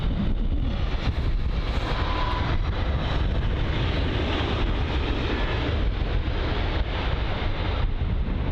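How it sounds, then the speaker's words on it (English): An Airbus A321 airliner arriving from Manchester lands at London Heathrow, its engines giving a continuous loud, broad roar mixed with heavy wind buffeting on the microphone, with no speech. "Here's the A321 though from Manchester"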